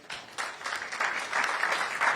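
A brief burst of audience applause at a national school quiz championship launch: clapping starts abruptly and quickly builds into a dense, moderately loud patter of many hands.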